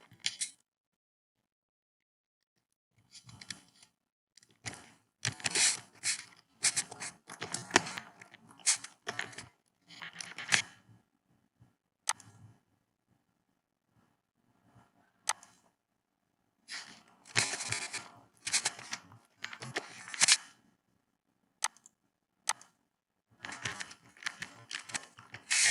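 Keyboard typing in bursts of quick clicky keystrokes, close and fairly quiet, separated by pauses of near silence, with no talking.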